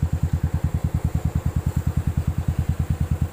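A modified Royal Enfield motorcycle with an aftermarket silencer idles nearby, its engine thumping in a steady, even, low beat throughout, loud and with no voices over it.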